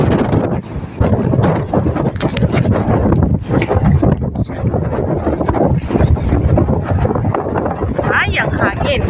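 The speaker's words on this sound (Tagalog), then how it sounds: "Ay, ang hangin." Strong wind buffets the microphone by the sea along a waterfront walk, a steady loud rumble and roar filling the whole clip, with a voice talking briefly over it.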